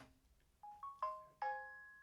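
A mobile phone ringtone chimes in a quiet room: a few bright electronic notes step upward, then two longer ringing tones that fade slowly, heard alone and fairly soft.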